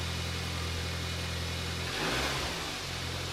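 A Mini One R50/R52 Tritec engine, just fitted with a new timing chain, runs steadily at a low idle without chain rattle, briefly revving up midway before settling back to a steady hum.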